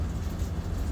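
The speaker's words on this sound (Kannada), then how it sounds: "Bullet train." A Japanese Shinkansen bullet train running at speed, a steady low rumble and rushing hum heard from inside the cabin, with no talking.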